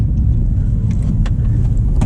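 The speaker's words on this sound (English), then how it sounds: "going on these back roads is so much more fun, shifting our own gears" Audi R8 V10 with a manual gearbox driven on winter back roads, giving a loud, steady, close engine drone that holds through the whole stretch without a clear gear change.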